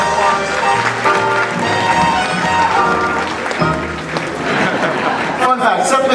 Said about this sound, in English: Give them both a huge round of applause.